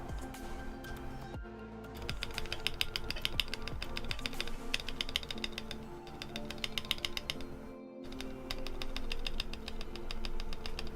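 Someone types quickly on a Neo Ergo split mechanical keyboard, producing dense, close clacking keystrokes with a couple of brief pauses.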